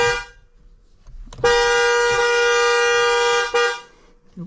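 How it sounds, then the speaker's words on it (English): The horn of a Tesla Model Y, just fitted with a yoke steering wheel, sounds in a single sustained honk of about two seconds, loud and close, after a short beep and some faint handling noise. "and it should honk when it's in."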